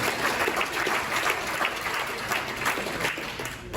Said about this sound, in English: Give a round of applause for Dane.